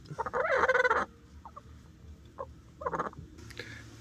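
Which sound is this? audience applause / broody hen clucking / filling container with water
broody hen clucking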